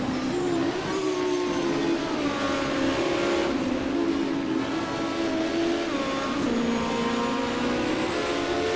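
An Opel Kadett GTE race car climbs a mountain hill-climb course, its engine droning loudly and steadily near the listener, with the pitch rising and dipping through the gear changes.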